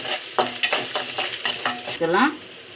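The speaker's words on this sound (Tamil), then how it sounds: "நல்லா வதக்கி விட்டுலாம்." Food is sautéed and stirred in a frying pan in a home kitchen, a soft sizzle under repeated scraping strokes of a spoon against the pan, several quick, close, irregular scrapes with a brief hiss at the end.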